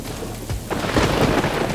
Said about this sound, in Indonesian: Langit mendung dan rintik hujan mulai menyentuh permukaan air